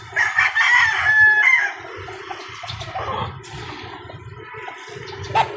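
Roosters crowing nearby during a morning jog, one loud drawn-out crow up front followed by softer clucking and further fainter crowing over outdoor ambience.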